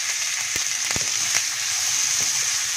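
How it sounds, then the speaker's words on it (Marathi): Chopped onion sizzles in hot oil over a tempering of garlic paste and curry leaves, a steady bright frying hiss with a few faint clicks of stirring. "आणि यामध्ये आता कांदा घालूया"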